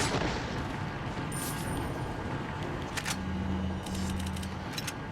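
Rapid TMP submachine gun fire in Resident Evil 4's village, sharp repeated shots over a busy game soundscape with steady background noise and a low droning tone, no talking.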